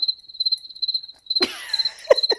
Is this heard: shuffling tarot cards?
no